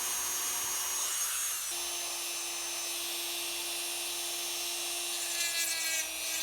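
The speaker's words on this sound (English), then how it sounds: "I'm sort of shaving down his rib cage so I can move it up a little." Rotary tool shaving down the plastic rib cage of a custom action figure, producing a continuous high-pitched whine that holds steady throughout with a slight pitch shift, close and alone without talking.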